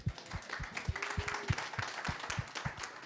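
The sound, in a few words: audience applause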